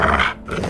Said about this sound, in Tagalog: Kung nakadambang malaking aso sa'yo, ha?